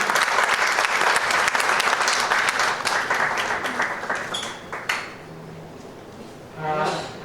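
A small audience at a book launch for Dard Bhari Muskan claps energetically, a dense burst of applause that tapers off after about five seconds, followed by quieter room sounds and a brief voice.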